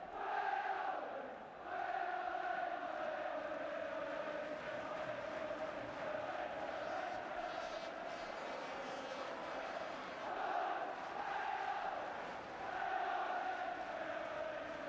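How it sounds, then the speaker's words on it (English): Football crowd at the 1984 FA Cup third round tie between Leeds and Everton, a sustained roaring chant rising and falling in waves across the stands, distant and continuous. "Crowd trying to raise Leeds' game for them."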